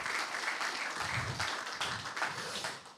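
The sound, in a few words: audience applause after round table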